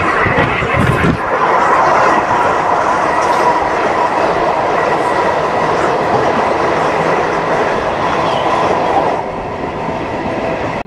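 A train pulls into Kolakaluru halt railway station with a loud, continuous rumble of rolling wagons and faint wheel clatter, easing slightly in level toward the end.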